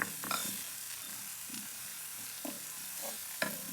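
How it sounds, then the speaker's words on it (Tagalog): Garlic and onion sautéing in a pan, a steady soft sizzle under scattered clicks and light scrapes of a utensil stirring against the pan, close and moderately quiet, with no talking. "Pag nagisa nyo na yung bawang sibuyas"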